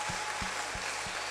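Congregation clapping hands in church, four slow rhythmic claps spaced evenly over about a second, moderately loud above a steady background hum.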